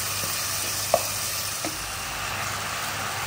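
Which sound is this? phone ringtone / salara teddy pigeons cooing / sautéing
sautéing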